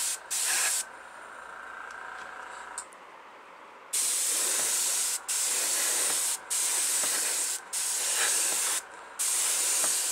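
A Testors Aztek airbrush lays down a wet coat of blue acrylic paint on a model car body, sounding as steady close hisses in several bursts of about a second each, separated by short pauses.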